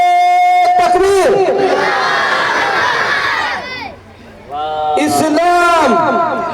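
A large crowd at an Islamic public gathering in Shyampur answers a Takbir call with loud unison shouts, two bursts of massed voices separated by a short lull, close and forceful.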